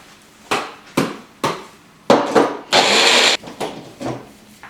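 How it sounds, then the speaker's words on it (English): A blender whirs in short pulses on a vegan cheese sauce made with almond, giving several brief loud bursts and then one longer sustained run near the microphone. "It can be blended up a little bit more, so we'll hit it again for 30 seconds."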